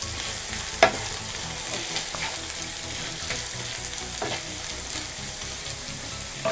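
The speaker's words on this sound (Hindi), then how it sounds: "बस 5 मिनट और इनको हम फ्राई करेंगे ऐसे ही खुले हुए" Taro root fries uncovered in a pan with chili flakes, giving a steady soft sizzle and crackle throughout, with a few brief spatula scrapes and pops standing out near the start and end.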